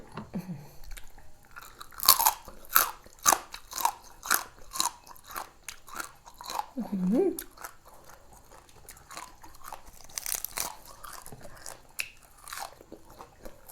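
Whole live raw crab is bitten and chewed up close, giving a run of sharp wet crunches and cracking shell sounds with short pauses, no talk.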